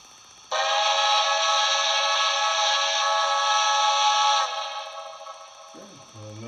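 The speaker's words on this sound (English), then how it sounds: "and let's blow the whistle." A Marklin SNCB commuter model train sounds its whistle with one loud, steady, bright tone held for about four seconds, then cuts off into a quieter low rumble.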